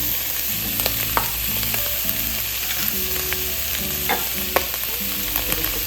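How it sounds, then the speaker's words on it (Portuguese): Meat and onion frying in a pan give a loud, steady sizzle with crackles and occasional scraping from stirring, with no voices. "A carne está fritando e a gente abre bem aqui no meio"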